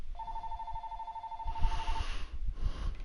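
A telephone rings in the video game Telling Lies with a steady electronic trill that sounds unbroken for about two seconds. Low background rumble and thuds continue after the ringing stops.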